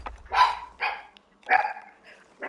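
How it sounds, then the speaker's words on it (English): A dog barks close by in three or four sharp, separate barks with short pauses between them, alone and fairly loud. "And now my dog is barking."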